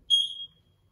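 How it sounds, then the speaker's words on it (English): A household smoke alarm gives a single loud, piercing electronic beep when its test button is pressed, sounding close by and alone for about half a second before fading to quiet. "So when you go around your home with your grown-up and find those smoke alarms, push the test button."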